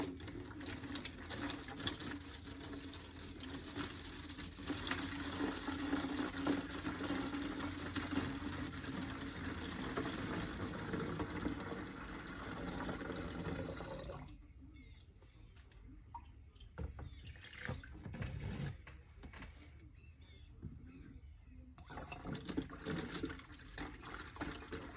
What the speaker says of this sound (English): let's go ahead and just get some of this water and fill my gallon here